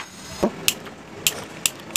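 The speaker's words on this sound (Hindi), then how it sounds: "बिल्कुल जितना बार आप दबाएंगे उतनी बार स्पार्क देगा।" A repaired gas lighter is pressed repeatedly, giving five sharp, close clicks as it sparks, spaced unevenly over about two seconds against a quiet background.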